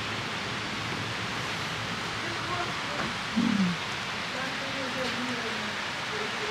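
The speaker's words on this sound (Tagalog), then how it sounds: "wala talaga tigil ang ulan. Parang monsoon lang ah." Heavy, monsoon-like rain pours down as a constant dense hiss, with a soft voice briefly murmuring over the steady downpour.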